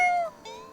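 A person imitates a cat with a short, soft meow that bends downward, then a second quieter note, close and alone.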